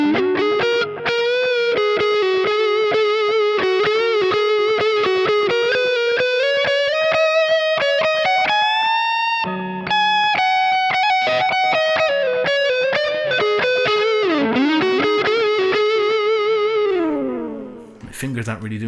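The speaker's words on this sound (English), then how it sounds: "on the neck pickup then with the tube screamer, it can get really throaty" An electric guitar on the neck pickup through a Tube Screamer overdrive plays a melodic line with a warm, thick, slightly gritty, throaty distortion, sustained notes and bends, loud and up close.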